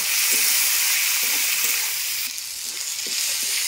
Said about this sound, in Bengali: টমেটো কুচিটা দিয়ে আরেকটুখানি ভেজে নেব।